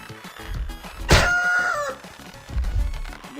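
Chickens cluck in a VR game, with soft low clucks before and after one loud drawn-out squawk near the middle. Nobody speaks.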